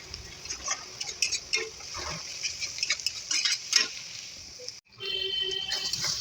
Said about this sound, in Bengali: মশলাটা মোটামুটি কষা হয়ে গেছে